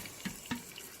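Water poured into a pot of curry chicken: a faint, brief, close splash and trickle with two small surges, quiet and alone.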